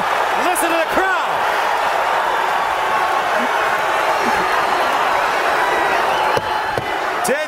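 A boxing arena crowd roars steadily throughout a pro bout, loud and sustained, with scattered whistles and shouts rising above the din and a commentator speaking over it.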